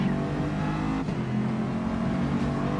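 A Mercedes Vision GT race car in the GT Sport video game revs hard with a loud, continuous engine roar, rising and holding in pitch, with a brief sharp tire squeal partway through.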